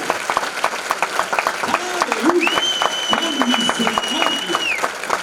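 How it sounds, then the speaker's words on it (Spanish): Crowd applause rises and continues steadily at a church revival service while a man preaches loudly over it, with sustained clapping and cheering throughout. "ese aplauso tiene que ser más fuerte."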